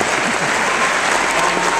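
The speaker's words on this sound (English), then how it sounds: "You can clap for that." A church audience breaks into steady, dense clapping that fills the space, loud and continuous for a couple of seconds.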